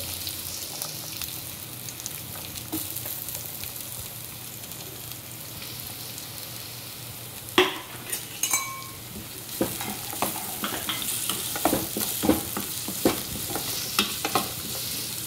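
Chillies and onions sizzling steadily in a pan, with scraping stir strokes and clinks of a spoon against the metal growing busier in the second half, no talk.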